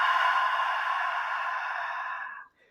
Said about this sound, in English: that's the sound of the friction moving through my throat with tension